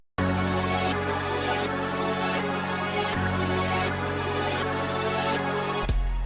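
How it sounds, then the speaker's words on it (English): A simple bass piano melody in a dark, hard beat production, steady and loud with low sustained notes repeating in even phrases, playing alone. "I gotta have that bass piano"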